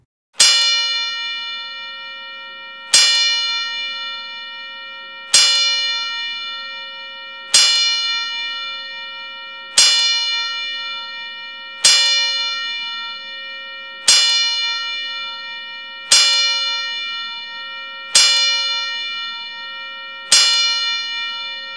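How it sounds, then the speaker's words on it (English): Ten evenly spaced bell strikes ring out alone as a traditional ten-bell salute at a wrestling ceremony, each clear metallic ding decaying before the next about every two and a half seconds. "Please join me in honoring Evil Dupree with the traditional 10 Bell Salute."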